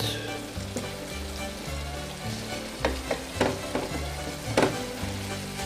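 Ingredients for a bean soup fry in a pan with a constant close sizzle, broken by several scraping stirs and clanks of a utensil toward the end, with no voices.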